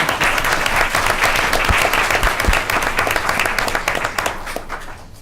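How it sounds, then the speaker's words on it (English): Audience applause at a school board of education meeting, a steady, loud round of many hands clapping that holds for several seconds and then tapers off. "Let's give them a round of applause again, shall we?"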